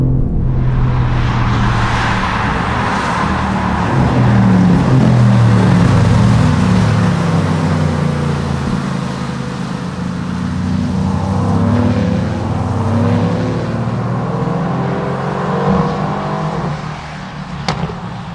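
A Mercedes-AMG GT sports car engine roars loudly at full throttle from a standstill, its pitch climbing and surging with deep exhaust rumble, then easing before a brief sharp click.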